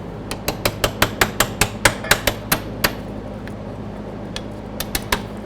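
A metal punch hammered against a fuel tank strap pin on a 1998-2012 Ford Crown Victoria: a quick series of about a dozen sharp, ringing close-up blows, then a pause and a few lighter taps.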